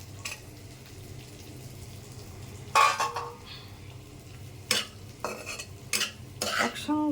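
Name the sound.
frying potatoes and long beans in oil with onion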